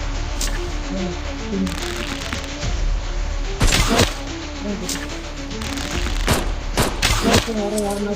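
Gunfire from a ninja action video game: several sharp, loud shot bursts over a continuous backdrop of game music and ambient effects, with a heavier cluster of shots near the end.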